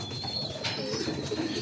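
Pigeons coo at a newly built fancy pigeon loft, a low murmuring coo rising and falling continuously for under two seconds with a faint chirp near the middle, close and steady.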